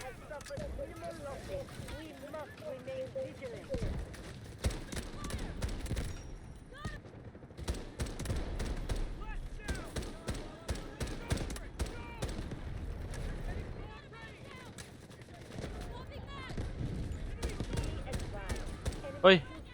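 Rapid gunfire from the video game Delta Force, with dense bursts and single shots crackling throughout at close range while players talk over the action.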